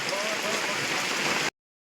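Heavy rain drums steadily on a tarpaulin in a village, a dense close hiss that runs evenly for about a second and a half before cutting off abruptly.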